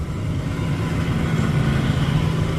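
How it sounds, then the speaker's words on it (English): A tractor's faulty fan motor on a Kuhn ProPush 2044 spreader drones loudly and steadily with a low humming whine and rough rattling texture, close up and without talk. "The fan motor is making all kinds of fucking funky noise in my big blue tractor here."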